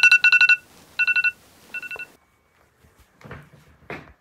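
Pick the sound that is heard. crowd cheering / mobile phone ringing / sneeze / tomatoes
mobile phone ringing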